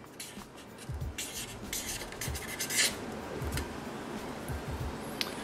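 A Copic marker's chisel tip rubs and scratches across paper while a name is written, giving a run of soft, close strokes and brief rasps with no talking.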